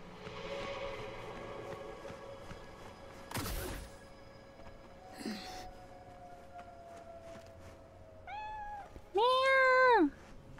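A cat in the video game Cyberpunk 2077 meows near the end, a couple of clear rising-falling calls with the second louder, after quieter mechanical whooshes and hum earlier.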